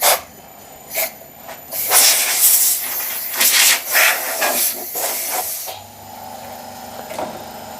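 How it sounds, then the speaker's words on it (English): In a workshop, an air compressor kicks in: several loud bursts of airy hiss are followed by a steady low mechanical hum that settles in and keeps running, with no speech. "So that's the compressor just come on now."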